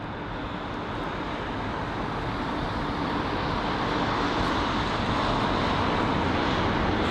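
A Delta Airbus A330 airliner at London Heathrow, a loud continuous jet roar that builds slightly as it passes close by.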